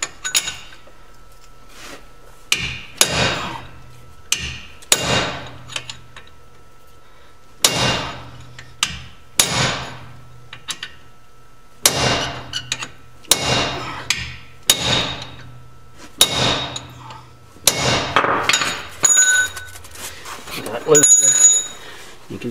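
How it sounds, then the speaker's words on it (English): Metal clangs ring out as a brake backing plate is hammered loose during brake disc removal, sharp strikes spaced a few seconds apart and then quickening into clusters, close and loud, with someone talking between and over the blows. "hit this until I start getting looseness in my backing plate itself"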